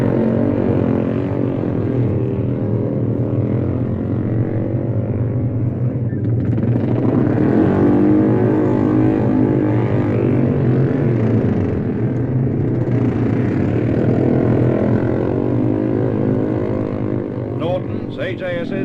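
Racing motorcycles at the Isle of Man TT, including Nortons, AJSs, BMWs, BSAs and Matchless G50 singles, stream away from the start grid, a continuous loud, dense engine roar building and swelling with a narrator's voice over it.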